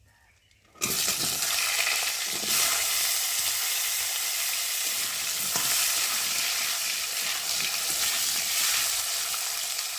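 Thinly sliced potatoes dropped into hot oil tempered with black cumin, an abrupt burst of loud sizzling that continues steadily, with occasional stirring scrapes and no talk.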